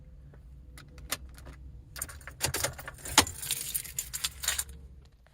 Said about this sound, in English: To eject the disc from this thing, you push that in